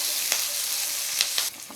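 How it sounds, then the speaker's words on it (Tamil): Green chilies and cumin fry in oil in a pan with a continuous loud sizzle and a few brief crackles, and no voices. "பச்சை மிளகா ஜீரகம் சேர்த்து நல்லா வதக்கிடுங்கம்மா."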